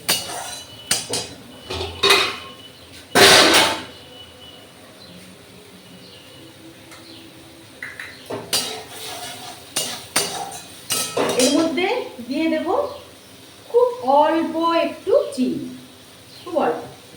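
A spatula clanks and scrapes against a pan as potato is stir-fried with spices in oil, producing sharp metallic knocks in bursts, with a person talking over the later part.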